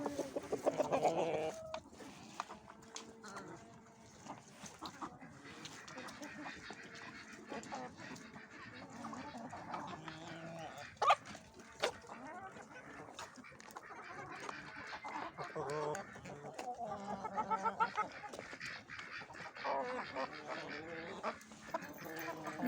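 Ducks and other poultry quack and cluck continuously in a noisy flock nearby, with occasional human voices mixed in.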